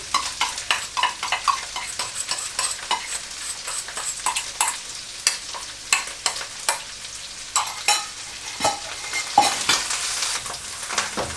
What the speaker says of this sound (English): Put in your dried mushroom.